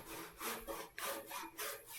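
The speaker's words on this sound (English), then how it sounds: "Tenon saws are not particularly happy when you're sawing down the long grain" A tenon saw cuts along the grain of a wood workpiece in steady back-and-forth strokes, close and rasping, with no talk.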